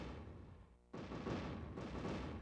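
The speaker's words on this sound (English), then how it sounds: "MUSOC forces at the airport have just received fire from rebel artillery" Rebel artillery fire landing on forces at an airport: a sudden heavy roar bursts in after a lull and stays dense and rumbling, with a second surge swelling moments later.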